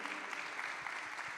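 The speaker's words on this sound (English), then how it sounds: "I'd like to give a round of applause to the policymakers here" An audience at an urban health conference claps for the policymakers in a brief, faint burst of many hands, heard from a distance.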